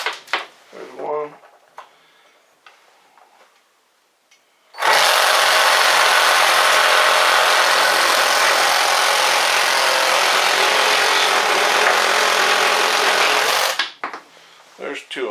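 A Ryobi P516 or Milwaukee M18 Fuel Sawzall reciprocating saw cuts steadily and loudly for about nine seconds, a dense buzzing roar starting abruptly and stopping cleanly, with quiet handling noises before and after.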